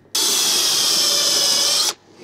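Power drill boring holes for wall plugs in a campervan: a single loud, close, steady high-pitched drilling burst of about two seconds, starting and stopping abruptly.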